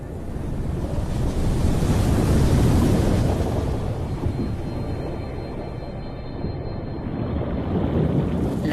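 Heavy ocean surf driven by Hurricane Irene, a Category 1 storm, off Puerto Rico's north coast near San Juan, roars steadily with wind buffeting the microphone, a dense continuous wash of breaking waves with no voices.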